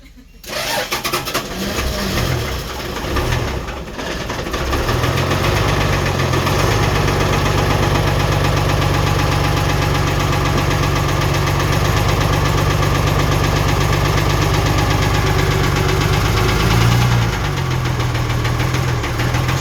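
A Mitsubishi 6D15 diesel engine in a ten-wheel truck starts and settles into a loud, steady close-range idle with a rough, knocking rumble, holding constant for the rest of the stretch.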